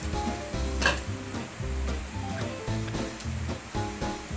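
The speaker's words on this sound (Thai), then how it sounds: "เราจะลวกเส้นกันก่อนใส่ลงไป" Spicy Mama instant noodles blanched in a pot of boiling water make a close, rumbling bubble and hiss, with a few sharper splashes and surges as the water churns.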